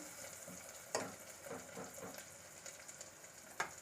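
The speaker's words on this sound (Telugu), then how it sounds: "ఈ ఆనియన్ కూడా వేసి లైట్ బ్రౌన్ కలర్ వచ్చే వరకు ఇలాగా కలే పెట్టుకుంటూ ఉందాము" Onions fry in a pan, a close, soft sizzle broken by several sharp scraping clicks as they are stirred, with no voice over it.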